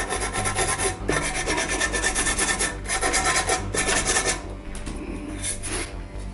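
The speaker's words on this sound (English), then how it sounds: "Get any corrosion off of there." Steady abrasive rubbing and rasping as corrosion is sanded off the metal of an electrostatic air cleaner, close and continuous, easing slightly toward the end.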